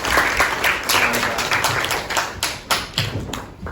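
A classroom of students claps together, a close, busy patter of hands that loosens into a few separate, sharper claps toward the end.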